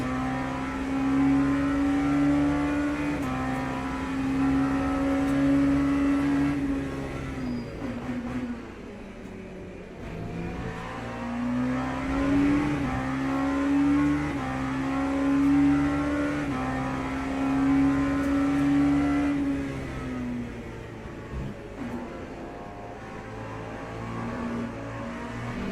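An LMP2 race car engine in a racing video game at Interlagos drones loud and steady, with long sustained revs that dip briefly on lifts and downshifts before climbing again.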